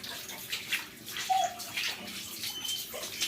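Water runs steadily while a dog is bathed, a close, continuous splashing flow from a tap or shower with slight gurgling and no voices.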